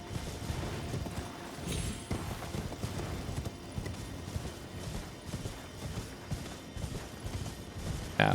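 Horse hooves clip-clopping in the video game Elden Ring, a steady rhythmic run of hoofbeats lasting throughout at even volume, with faint clanks and other game sounds behind.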